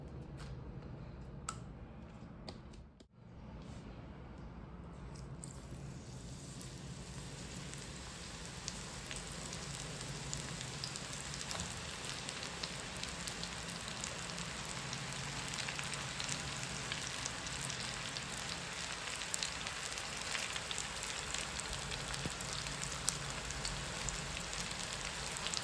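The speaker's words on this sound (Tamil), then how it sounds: "வெங்காயத்தை ஸ்லைஸ் அப்படி வெட்டி போட்டு இதை எடுத்து பொரித்து" Sliced onion fritters deep-fry in hot oil, giving a steady, dense crackling sizzle that runs throughout after a brief dip near the start, with no talking.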